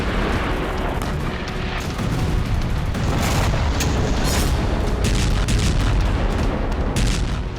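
Russian artillery pounding positions around Kharkiv: a dense, continuous low rumble with repeated heavy booms and sharp bursts layered throughout, loud and sustained with no voices.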